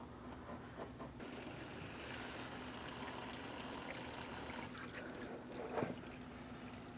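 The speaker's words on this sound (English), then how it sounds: "We'll let the coolant drain as long as you deem fit" Engine coolant pours from a loosened radiator hose on a 2003-2007 Cadillac CTS 3.6L V6 into a collection receptacle during a thermostat housing replacement, giving a steady, close splashing gush with a few brief trickling spurts.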